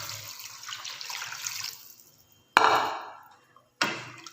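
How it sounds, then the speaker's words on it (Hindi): Water splashes and gushes in a few separate pours into a cooking pot of chicken pulao, each starting abruptly and trailing off, with quieter clatter before them. "तो अभी हम इसमें डालते हैं पानी और यखनी"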